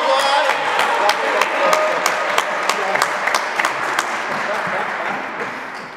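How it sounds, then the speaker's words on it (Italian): Crowd applause with cheering at a PalaKart indoor go-kart event, loud and dense claps throughout six seconds with voices shouting amid the clapping. "E applauso! Applauso!"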